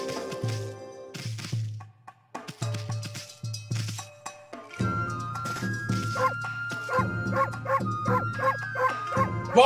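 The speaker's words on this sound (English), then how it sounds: "Bark as loud as you can!" Cartoonish dog barks from the video game Okami come in a quick run of repeated yaps over music, growing steadier and louder toward the end.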